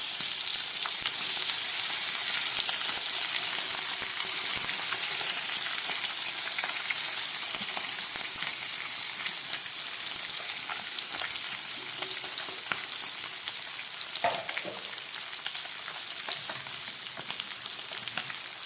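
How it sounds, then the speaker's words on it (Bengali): Spice-coated pabda fish frying in hot oil with black cumin seeds and green chillies, a steady dense sizzle and crackle that continues close and loud throughout, with no talk. "মশলা মাখানো মাছগুলো প্রায় হয়ে এসছে ভাজা।"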